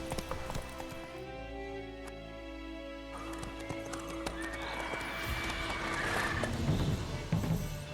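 In The Witcher video game a horse clip-clops at close range and neighs, with hoofbeats holding steady across the stretch and growing slightly louder toward the end.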